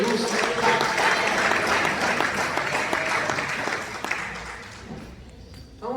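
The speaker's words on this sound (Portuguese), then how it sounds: "Palmas que louvam o nome do Senhor Jesus." A church congregation clapping in praise during a service, dense sustained applause from many hands that gradually thins and fades toward the end.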